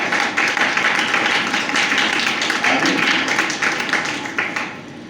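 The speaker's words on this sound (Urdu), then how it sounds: "ایک بار یہ تالی بجا دو، بڑے سمجھدار۔" A church audience at a Mother's Day service claps in a steady run of hand claps lasting several seconds, fairly close and loud, tapering slightly toward the end.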